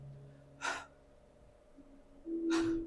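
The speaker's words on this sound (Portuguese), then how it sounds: "É a tua respiração." A preacher demonstrates breathing with two audible breath bursts, one short exhalation near the start and a longer breathy rush near the end, close and alone with no words spoken.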